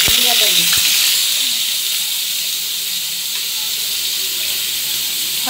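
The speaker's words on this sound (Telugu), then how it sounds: "ఈ నూనెలో ముందుగా తరిగి పెట్టుకున్న ఉల్లిగడ్డలు" Chopped onions go into hot oil and hiss in a loud, steady broadband sizzle that carries on throughout, with a few faint clicks near the start, while palak mutton is being cooked.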